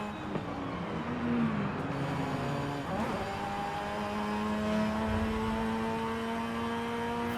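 The engine of a modified Mazda RX-7 drifts in the video game Forza Horizon 5. It gives a loud, buzzing engine note whose pitch swoops up and down with revving and shifting, then settles into a sustained high drone.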